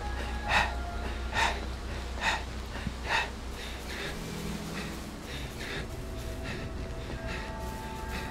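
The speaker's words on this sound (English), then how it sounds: "you get used to hearing this panting" Repeated breathy panting from a female character in the horror video game Viviette, rhythmic gasps roughly every second at moderate loudness over a low ambient game drone.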